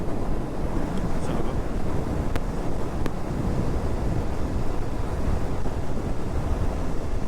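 Strong wind buffeting a rider on a Royal Enfield Bear 650 motorcycle at high speed, a steady, loud, broadband roar that fills the whole stretch with no voices.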